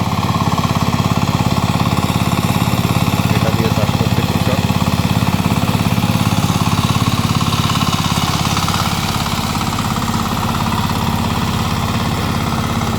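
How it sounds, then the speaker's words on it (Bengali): An ACI power tiller with a 20-horsepower engine and 24 blades runs steadily while plowing a field, a loud continuous chugging engine drone holding constant for the whole stretch. "বিশ ইঞ্জিনের চব্বিশ ফালের পাওয়ার টিলার"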